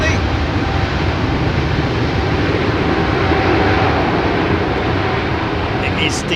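Airbus A380 engines spooling up at London Heathrow make a steady, broad rumble and whine that holds level throughout while someone talks over it.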